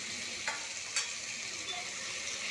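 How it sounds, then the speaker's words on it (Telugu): Grated cucumber and carrot being stirred in a hot pan for jowar upma, a steady close scraping and sizzling with a couple of sharper spoon knocks, no talking. "సో ఒకసారి మొత్తం బాగా కలుపుకోవాలండి."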